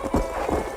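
Horse hooves clip-clopping at a gallop with a brief whinny in the Western video game Red Dead Redemption, a short loud burst of hoofbeats close up.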